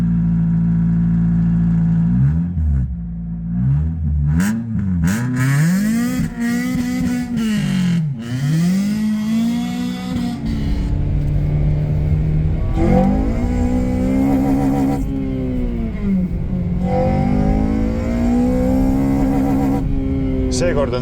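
Honda Civic Type-R engine revving and accelerating on a test drive, pitch sweeping up through several gears with sharp drops at each shift, loud and close, with a voice talking over parts of it.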